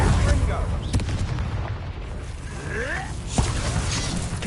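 A Confringo blasting spell goes off in Hogwarts Legacy, a booming, rumbling burst with crackling debris that sits close and loud, while a voice speaks over the noisy battle.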